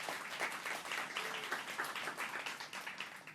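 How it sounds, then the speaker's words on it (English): Audience applause at a public safety announcement by the New York governor in New York City, a steady wash of many hands clapping at moderate distance, sustained evenly without speech. "let's give another round of applause to our Lieutenant Governor."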